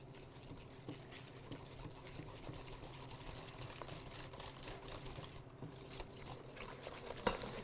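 Egg yolks, whole egg, sugar and cornstarch are whisked into a thick paste with a whisk attachment, a faint, continuous, rapid buzzing whir under quiet background hiss.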